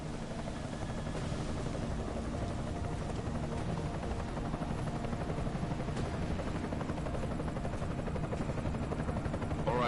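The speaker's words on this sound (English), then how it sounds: "Enemy helo sighted." In the game Deus Ex, an enemy helicopter's rotor thrums steadily and fairly loudly throughout, a dense, even chopping drone with no voices heard over it.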